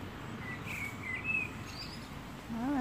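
Wild birds sing and chirp in a garden beside a bedroom, with bright whistled phrases rising over a soft background hum and a louder trilling call near the end.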